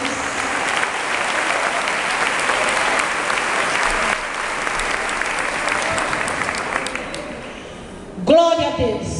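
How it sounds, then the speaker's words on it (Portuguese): A church congregation applauds together, a dense, steady wash of clapping lasting about eight seconds before it thins out and a voice speaks over it at the end. "Aplauda o Senhor"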